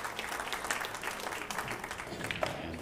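Crowd applauding at a pool match at the 2023 Apex Wisconsin Open, a moderate patter of many hands clapping continuously from a modest audience for a few seconds.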